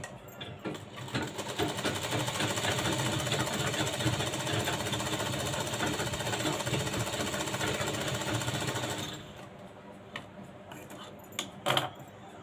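A sewing machine runs steadily for about nine seconds, stitching a double seam on a lined blouse, then stops and leaves faint handling noises and small clicks.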